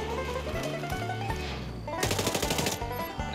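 Rapid automatic gunfire in the video game Warface, loud and close, in bursts over steady game noise, with an especially dense, crackling volley near the end.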